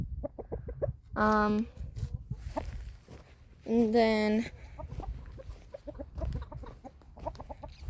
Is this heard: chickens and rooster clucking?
yes